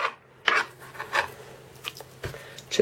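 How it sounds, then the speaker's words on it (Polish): Knife slicing a leek on a cutting board for fish soup: a handful of short, crisp crunching cuts spaced irregularly, close and fairly quiet, with no talking. "I teraz kroimy por."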